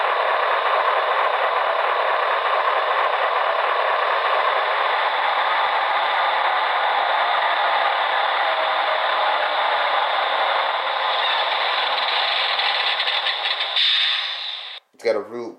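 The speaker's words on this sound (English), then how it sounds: "It's got a real, like a real vibration rumble, of a diesel engine." A model CSX AC6000 diesel locomotive gives a steady, dense mechanical engine rumble with a buzzing hum that runs continuously for most of the clip, then cuts off abruptly near the end.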